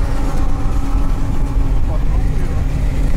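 Toyota Tacoma and Prado off-road vehicles launch in a winter 4x4 drag race, a steady loud engine roar and rumble filling the air while people talk over it.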